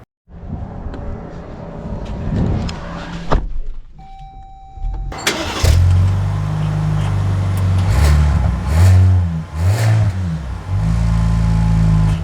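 A new Series III Jeep Grand Wagoneer starts up, a brief crank followed by the engine catching and settling into a steady, loud, close idle that holds with light revving for several seconds.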